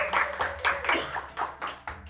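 Several people clapping in a podcast studio, sparse hand claps arriving in about eight distinct bursts, close and fairly loud, with no talk over them.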